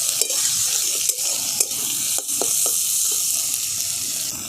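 Chopped capsicum, tomato and green chilli fry together in a pan, a steady bright sizzle broken by repeated scraping stirs of a spoon or spatula.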